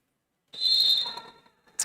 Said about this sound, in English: There's the whistle, we're off.